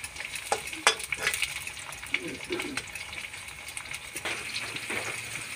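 Chopped capsicum for chowmein stir-fries in a hot pan, giving a steady sizzle broken by scraping and tossing strokes of a spatula.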